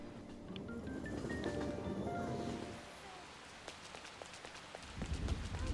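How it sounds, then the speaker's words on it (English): Rain falls in the video game Persona 5 Royal in front of a school, a steady patter of drops on surfaces with faint musical tones over it, the rain thinning and then swelling again toward the end. "You just stand out in front of the school in the rain."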